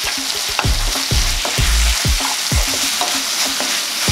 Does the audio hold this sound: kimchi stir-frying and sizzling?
yes